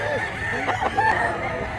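A rooster crows once amid the bustle of a poultry market where brown hens and pumpkin-colored roosters are sold, with a faint voice in the background.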